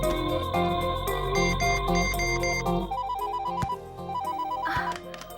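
A mobile phone ringtone for an incoming call in a Hindi-dubbed South Indian action film, a bright, loud electronic melody repeating its short phrase, heard alone.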